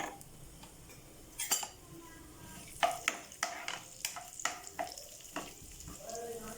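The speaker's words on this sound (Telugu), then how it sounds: "ఆవాలు జీలకర్ర చిరపట్లాడినివ్వండి." Mustard and cumin seeds spluttering and popping in hot oil for a ridge gourd curry, a steady sizzle broken by sharp irregular crackles and pops, close and fairly quiet, with no talk.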